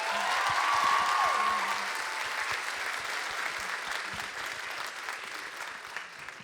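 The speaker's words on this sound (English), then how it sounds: "Let's give one more big round of applause" An audience at a student leadership conference gives a sustained round of applause, dense and even clapping that slowly tapers off, with a brief faint voice over it near the start.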